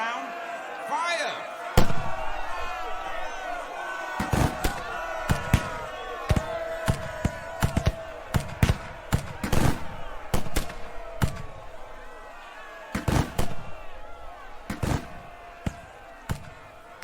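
Musket volleys and scattered shots crack out repeatedly during an outdoor reenactment of the Battle of Concord, loud sharp reports in clusters over a murmuring crowd and shouted voices.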